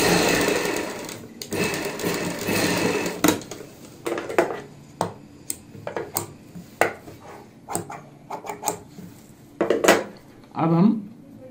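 Sewing machine stitching a box-pleat palazzo pant, heard in bursts of fast mechanical rattling that stop and start, with scattered clicks and handling knocks in between and a brief voice near the end.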